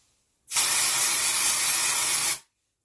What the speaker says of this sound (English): I think I need a little dry shampoo.